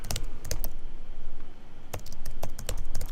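Fingers type on a computer keyboard during a page-layout lesson in Adobe InDesign, with quick bursts of crisp key clicks, a pause in the middle, then another run of taps, close and alone without talk.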